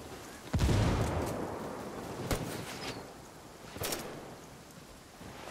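A frag grenade blast in Ghost Recon Wildlands booms loudly near the start, followed by a couple of sharp, fainter bursts of gunfire over a low rumbling battlefield background.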